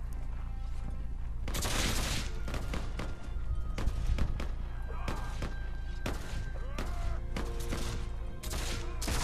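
Gunfire in the Mount and Blade multiplayer game, sharp muzzle-loading shots and heavy thuds cracking out repeatedly and irregularly amid battle din, with a voice speaking over the fighting.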